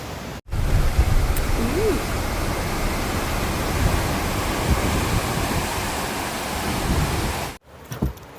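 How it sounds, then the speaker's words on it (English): A huge waterfall in Scotland roaring as a steady, broad rush of falling water, loud and close, holding evenly for about seven seconds with no talking. "So yeah, that is a huge waterfall."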